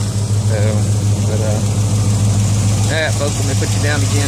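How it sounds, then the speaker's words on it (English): A Chevrolet C10 truck engine idles with a steady low rumble throughout, while someone talks close to the microphone over it. "Go listen to the truck run for a minute."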